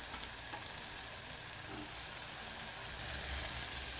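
Chopped radish frying in a pan with a steady, close sizzle and hiss throughout, slightly louder toward the end, with no talking.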